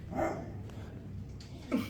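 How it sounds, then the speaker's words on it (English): A pet dog barks at a basement door indoors, a couple of short loud barks spaced apart with quieter room noise between them. "his dog starts barking at the basement door"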